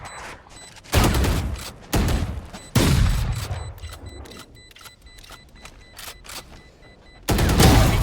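Gunfire in the tactical shooter Valorant: loud separate bursts of shots and a longer burst at the end, interrupted by quieter clicks and game sounds, close and sharp.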